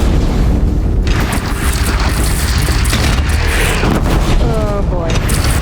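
In Horizon Zero Dawn, a bridge is shot down and explodes: a loud, sustained, rumbling roar of booms and crashing debris fills the whole stretch without letting up, with a dense wash of game sound layered beneath it.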